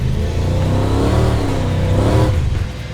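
A 1971 Holden Monaro GTS two-door with a big-block Chevy V8 tuned well over 1,000 horsepower revs hard and accelerates, a loud close roar building for over two seconds before quickly dropping away.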